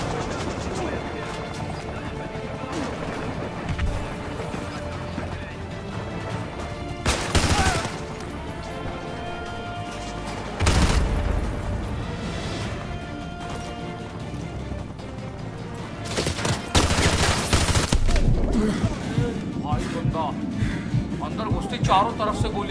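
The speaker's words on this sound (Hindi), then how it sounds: "बड़ा हेलीकॉप्टर है जो हमारे पे गोलियाँ चलाए ले रहा है।" Gunfire from an attack helicopter in the video game Call of Duty Modern Warfare, loud bursts hitting at intervals around 7, 11 and 16–18 seconds over a constant game soundscape, with a player talking throughout.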